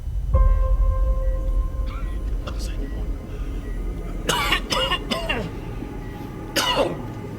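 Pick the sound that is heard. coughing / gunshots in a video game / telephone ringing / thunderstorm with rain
coughing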